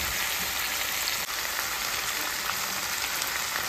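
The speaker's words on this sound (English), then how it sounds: "Let the spices cook." Spices fry in a home kitchen pan, a steady, dense sizzle and crackle that holds evenly throughout, close and fairly loud, with no talking.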